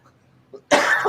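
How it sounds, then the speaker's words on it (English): A single sharp cough, loud and close, bursts out after a faint murmur, muffled as though coughed into an arm, then trails off briefly. "Did you just cough in your arm"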